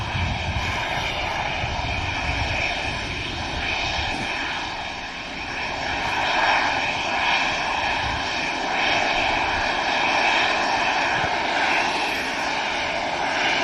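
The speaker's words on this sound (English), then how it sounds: "the EasyJet about to line up in front of us" An EasyJet airliner lines up on the runway at Manchester Airport, its engines giving a continuous loud hum with layered steady whining tones that swell and dip gently over the span.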